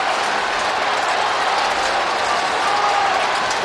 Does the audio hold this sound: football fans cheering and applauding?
yes